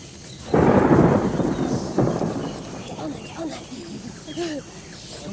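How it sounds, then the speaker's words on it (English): A rolling thunder rumble from the Thunder Mountain set in a Crystal Maze game-show challenge swells loudly, then fades into a low background roll while contestants shout and talk over it. "It's old Thunder Mountain you can hear in the background."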